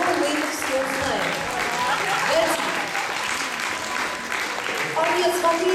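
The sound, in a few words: audience applause at costume contest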